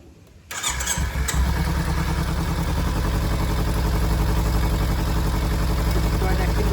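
Ten-year-old Kawasaki Z250 motorcycle with a repaired exhaust firing up and settling into a steady, loud idle, close by and alone after a brief quiet start.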